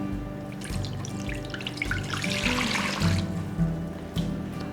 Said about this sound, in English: I'm gonna go ahead and add water, hot water, into this pan.